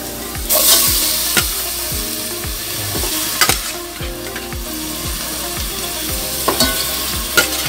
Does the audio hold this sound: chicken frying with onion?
yes